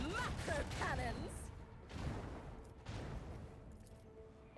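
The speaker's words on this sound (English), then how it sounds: "Engage the macro cannons!" Macro cannons fire in the space-combat game Rogue Trader in a faint barrage of booms and crashing impacts with whooshing effects, while a voice talks over the battle.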